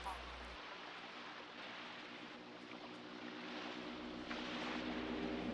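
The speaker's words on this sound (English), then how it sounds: "And there's the helicopter! That's the helicopter!" A helicopter in a 1990 film passes overhead with a steady, broad engine and rotor roar, building slightly toward the end, while a voice talks over it.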